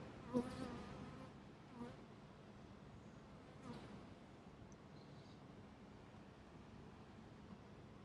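Honeybees from hives on a supermarket rooftop in Chartres hum steadily and densely throughout, a close, continuous buzz with a few brief louder passes.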